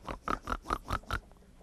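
A voice imitates a pig snorting, six quick rhythmic snorts in a row, close and fairly soft, ending in quiet.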